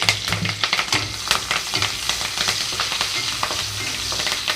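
Sliced onions and diamond-cut green chillies fry in a pan over medium flame for potato kurma, a steady loud sizzle with scattered crackles and spoon stirs throughout, no talking.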